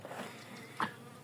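Honeybees swarm around a beehive that has been robbed. A steady, close, faint buzzing drones alone, with one brief louder buzz as a bee passes near.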